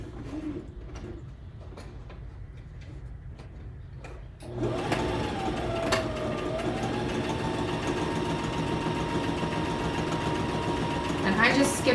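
A sewing machine stitches a side seam straight down a garment, catching a pocket in the seam. Quiet ticks and movement come first, then the motor starts about midway and runs in a steady, continuous whir.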